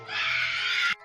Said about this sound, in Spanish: Después escuchamos un grito.